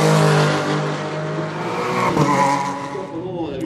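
Race cars compete on the Val de Vienne circuit in an Elite Racing Series round, R4 class, with loud engine roar, shifting pitch and tire squeal as they pass, while a commentator talks over the action.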